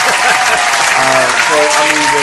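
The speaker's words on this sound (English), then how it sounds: "that deserves an applause" Loud, dense applause from a studio audience on a talk show, a continuous close wash of clapping that fills the whole moment with no pauses.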